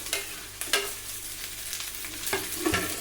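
Cut okra pieces fry in a tempering of spices, with close crackling sizzle and several sharp scrapes and clatters of a spoon stirring the pan.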